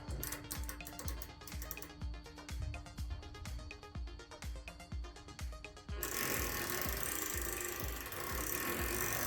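A Craftsman V-Series 11 mm ratcheting wrench turns a bolt, its pawl clicking loudly and close in a steady rhythm of separate clicks before switching to a faster, continuous ratcheting buzz.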